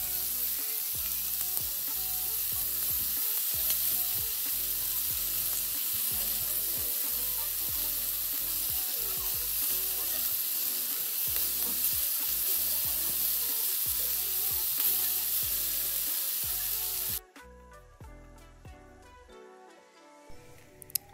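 Shrimp fry in olive oil in a pan with a loud, continuous sizzle for most of the clip before it drops away abruptly near the end.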